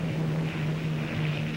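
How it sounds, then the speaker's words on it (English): A propeller airplane drones steadily with a low, even engine hum and faint wind rush, continuous and fairly close, with no voices over it. "That's my plane."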